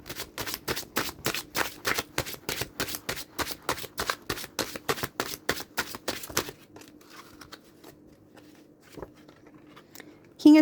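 A deck of tarot cards being shuffled by hand, a steady run of crisp riffling flicks at a quick, even rhythm for several seconds, then a quiet pause with a few soft card taps.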